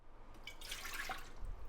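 Water pours into a bread machine pan as the first liquid for homemade burger buns, a soft, close trickling splash running steadily for under two seconds, with no talking.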